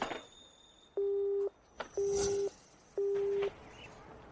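An unanswered telephone call: three evenly spaced ringback tones, each about half a second long, repeating once per second, clear and close, with a faint brief noise between them and no talking.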